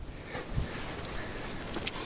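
A small dog sniffs softly in a few short breaths, close by against a steady outdoor hiss.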